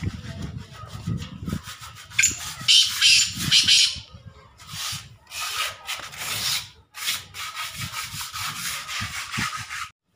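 A captive black francolin gives repeated raspy, scratchy calls in short bursts, fairly close, with rustling and scraping between calls and no talk.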